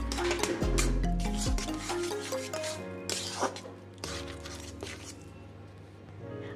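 Crumbled bread being stirred into milk in a pot for a sweet dessert: soft rubbing and scraping strokes with occasional light clinks of a spoon against the pan, steady and close, no talking.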